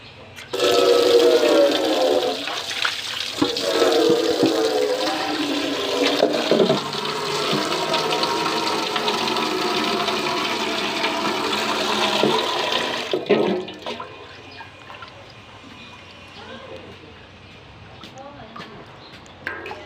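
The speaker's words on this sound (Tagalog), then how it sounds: "Kuha tayo ng tubig." Tap water gushing loudly into a rice cooker pot, a strong continuous rush for about thirteen seconds that then cuts off abruptly, leaving quieter room sounds and a voice speaking.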